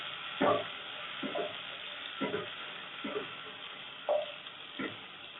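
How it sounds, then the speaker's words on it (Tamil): Onions sauté in a pan for vegetable biryani, with a faint sizzle broken by six or so sharp spatula scrapes at uneven intervals. "வெங்காயத்தை நல்லா வதக்கிக்கலாம்."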